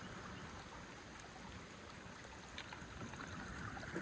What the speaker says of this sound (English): I could live by a creek and sleep with that sound.